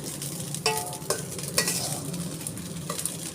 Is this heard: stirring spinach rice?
yes